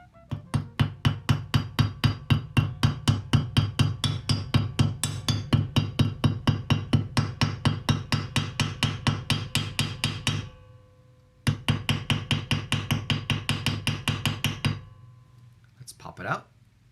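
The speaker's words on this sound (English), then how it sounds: "Now we take our hammer and gently tap it down evenly." A hammer gently taps a kamigoma, the bridge piece of a shamisen, down into place with dozens of rapid, even, close strikes. A brief pause comes near the end, then another quick run of taps.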